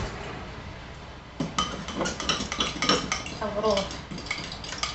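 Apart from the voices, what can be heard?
whisking gravy in a pan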